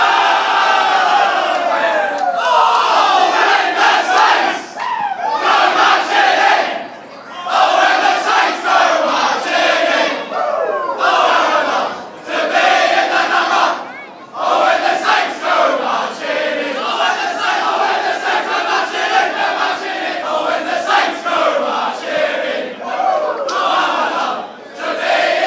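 A large stadium crowd at a Saints v Tigers football match at the McNamara Reserve chants and cheers loudly and continuously. The roar comes in rhythmic surges with brief dips, as if the crowd is singing along to a team song.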